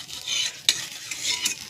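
Thin roti sizzling steadily in a hot pan, a bright continuous hiss broken by two sharp scraping flips, close and alone with no voices.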